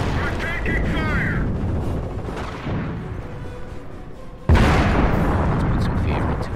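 Gunfire and artillery booms in a Company of Heroes skirmish, loud rumbling blasts with a sudden heavy impact near the end, under shouted voices.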